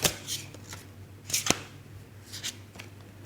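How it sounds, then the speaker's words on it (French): Tarot cards being shuffled by hand during a reading, heard as a few brief, close papery riffles and snaps with gaps between them, set against a low steady background hum. "Désolée pour les battements de cartes."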